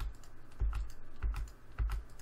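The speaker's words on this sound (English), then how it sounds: "Uncontrollable spastic mouse clicking" A computer mouse clicked rapidly in uncontrolled bursts, several quick clusters of sharp, close clicks over a faint room hum.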